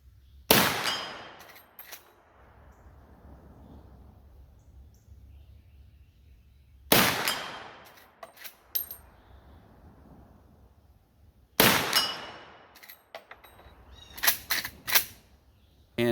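A Marlin 1895 SBL lever-action rifle fired outdoors, three loud sharp gunshots spaced several seconds apart, each followed by quick metallic clacks of the lever action, no talking.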